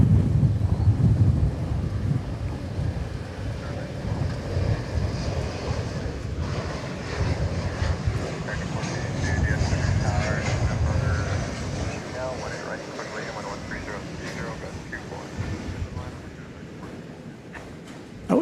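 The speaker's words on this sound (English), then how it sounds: "We have an American Eagle flight coming in from El Paso, Texas next. Flight 3828 and Embraer 175." An American Eagle Embraer 175 regional jet from El Paso arrives at DFW Airport, its engine roar swelling and fading at a distance with wind buffeting the microphone and a voice talking over it.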